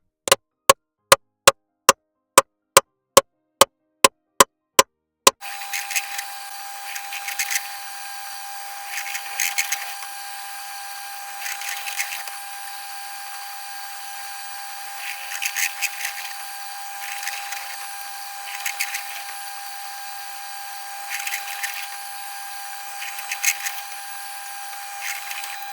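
A pillar drill bores 12mm stud holes through a cylinder head gasket, starting after a run of sharp evenly spaced clicks, then a steady motor hum broken by repeated short bursts of cutting as each hole is drilled.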